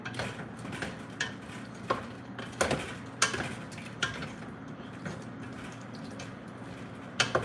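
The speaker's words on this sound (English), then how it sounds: "I'm gonna stir this up" A spoon stirring Jamaican curry snapper fish in a pot, with quiet scraping and soft irregular clinks spaced through a low steady background hum.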